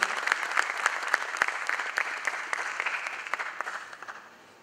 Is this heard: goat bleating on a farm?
no